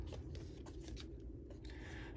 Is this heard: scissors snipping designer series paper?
yes